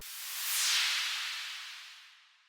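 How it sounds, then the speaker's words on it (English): A pop rock transition effect: a soft airy noise sweep that swells up and then fades away over a couple of seconds, quiet and alone. "I'm adding this transition effects here."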